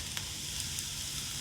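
Chopped onions with curry leaves and salt sautéing in a pan for Kerala kappa biryani, a steady, even sizzle that fills the clip, with a few faint clicks.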